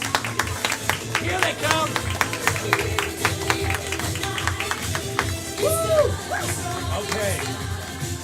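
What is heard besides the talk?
audience clapping and cheering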